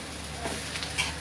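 Kanda pohe, flattened rice with onion made Malvani style, being stirred in a pan with a soft scraping and light sizzle, a few faint strokes over a quiet background.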